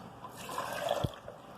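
Two cups of cold water pour into a blender jar already holding ice for homemade oat milk, a brief soft splashing trickle heard close and quietly with no talk over it.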